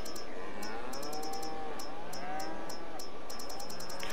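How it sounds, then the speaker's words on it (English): Cattle low in Farming Simulator 22 with a few drawn-out, overlapping moos over a steady farm background, punctuated by a regular run of faint high ticking clicks. "Cows are moving away."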